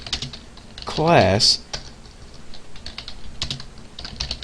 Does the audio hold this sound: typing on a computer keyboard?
yes